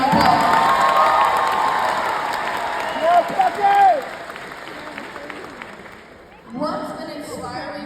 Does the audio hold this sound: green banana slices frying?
no